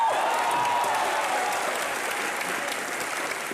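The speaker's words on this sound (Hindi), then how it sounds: "मिस्टर इंडिया के लिए तालियां बजाएं पहले।" A studio audience on a comedy talk show applauds in a dense, sustained burst of clapping that stays loud and even before easing slightly.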